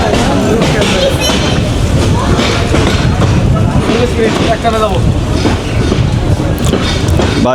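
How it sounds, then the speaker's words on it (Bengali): Agnibina Express train racing at speed between Gafargaon and Mymensingh, a loud, dense roar of wheels and rushing wind with rattling carriage noise, continuous and close throughout. "দুর্দান্ত গতি নিয়ে ছুটে চলেছে আমাদের অগ্নিবীণা এক্সপ্রেস"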